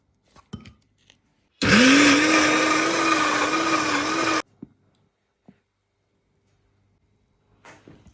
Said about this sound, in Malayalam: ഇനി നമുക്ക് ഇതൊന്ന് മിക്സിയിലിട്ട് നന്നായിട്ട് അടിച്ചെടുക്കാം